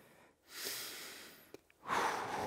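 Heavy, effortful breathing during a strength exercise session, with sharp snorting exhales and gasping breaths in bursts, close to the microphone, alone without speech.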